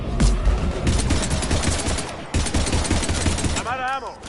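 Rapid bursts of automatic gunfire from a Mass Effect 3 firefight against Husks, loud and dense, with a brief electronic warble near the end.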